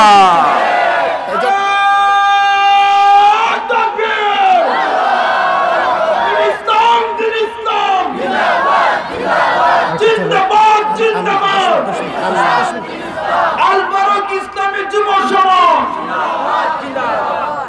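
At an Islamic religious sermon gathering, a large crowd shouts the Nara-e-Takbir slogan in loud, repeated call-and-response chants, with a leader's voice calling out and massed voices answering in strong rhythmic waves.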